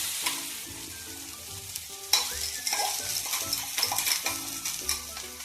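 Pea paste ground in a mixer sizzles and fries in a hot pan with mustard seeds while being stirred, the spoon scraping in irregular strokes over a steady close crackle.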